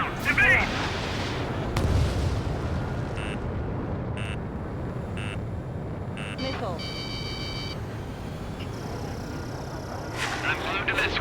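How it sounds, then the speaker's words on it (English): Anti-aircraft guns and missiles in the Ace Combat 7: Skies Unknown flight combat game: continuous rumbling gunfire with bursts, interrupted by repeated electronic warning beeps, with radio voices talking over it. "Fire anti-air guns! Now!"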